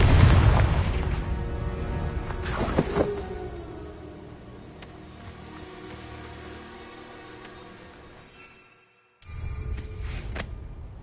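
A Confringo spell blast in the video game Hogwarts Legacy: a loud booming burst with a sharp crack that decays into a long rumbling tail, then a brief silence and a second, quieter impact.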